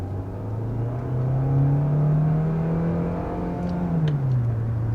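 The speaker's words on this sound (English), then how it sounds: "it takes off on that EV power, which really gets you up to speed" A 2022 Hyundai Tucson Hybrid pulls away from a stop on electric power, a smooth whirring tone that rises, holds, then eases off, heard from inside the cabin with no talking.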